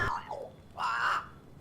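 A crow caws in the game Banishers: Ghosts of New Eden, a few hoarse, close calls in quick succession over a quiet background.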